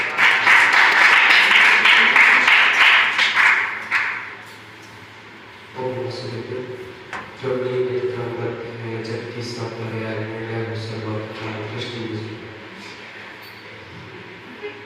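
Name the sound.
audience applause welcoming a speaker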